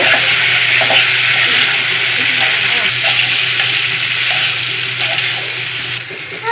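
Fried prawns and jackfruit being stirred into cooked-down masala in a pan, a loud continuous sizzle with scraping stir strokes throughout, close and without talk.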